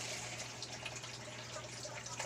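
Household tap water runs in a faint, steady trickle and splash, continuous and close but quiet, with a low hum underneath and no one speaking.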